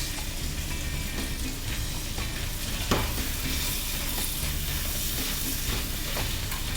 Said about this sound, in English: Like I said, medium-high heat, we want to brown it